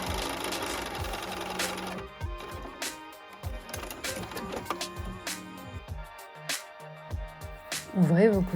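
A domestic sewing machine stitches fabric for a bob hat in quick rhythmic bursts of needle clatter, stopping and restarting at close range, with a brief backstitch and a short voice near the end.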